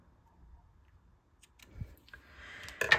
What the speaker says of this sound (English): you can grab your scissors and cut your ends